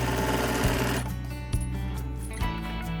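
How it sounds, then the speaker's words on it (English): A sewing machine stitches a fabric face mask, a loud close motor whir with rapid needle chatter, broken by a few brief pauses and clicks. "we're gonna sew to the first corner"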